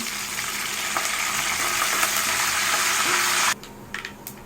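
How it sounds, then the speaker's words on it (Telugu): Cumin, mustard seeds, garlic cloves and curry leaves fry in hot oil for a cabbage curry, giving a loud steady sizzle and crackle that cuts off sharply near the end, leaving a few faint clinks. "జీలకర్ర, ఆవాలు, వెల్లుల్లి రెబ్బలు, కొంచెం ఫ్రై అవుతున్నప్పుడు కరివేపాకు"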